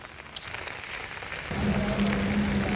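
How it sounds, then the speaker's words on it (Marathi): Heavy post-monsoon rain pours over rural Nashik district around Chandwad and Manmad, a steady hiss that swells noticeably louder halfway through, with a faint low hum underneath and no voices. "परतीच्या पावसानं पुन्हा एकदा चांदवड, मनमाडसह नाशिक जिल्ह्याच्या ग्रामीण भागात धुमाकूळ घालायला सुरुवात केली"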